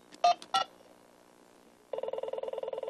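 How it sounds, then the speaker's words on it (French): A telephone is dialed to 3615 for a French Minitel service, with a couple of faint clicks, then rapid evenly spaced DTMF tone beeps, clear and close in a quiet room. "Tu composes le 3615 sur le téléphone."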